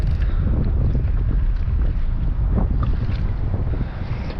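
Strong wind buffets a fishing boat out after halibut, a dense continuous low rumble and roar of wind noise with faint water wash underneath, loud and unbroken throughout.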